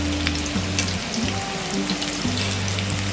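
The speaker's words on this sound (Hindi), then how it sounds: "हमने इसे मीडियम फ्लेम में फ्राई किया है।" Crispy cauliflower pakoras deep-fry in oil over a medium flame, a dense steady sizzle with fine popping crackles and low hum close by, no speech.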